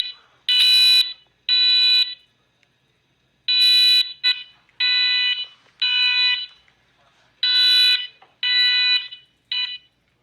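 A loud, high-pitched electronic alarm blares in repeated bursts with short gaps, harsh and insistent in a large, empty, quiet movie theater.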